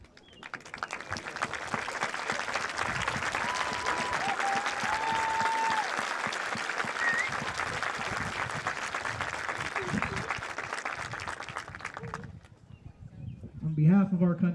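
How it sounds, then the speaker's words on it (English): Sustained applause from a large crowd at the Barnesville High School 2021 graduation ceremony, honoring veterans, steady and dense for about twelve seconds with faint whistle-like tones above it, then dropping away as a voice begins. "Our veteran can give you a round of applause"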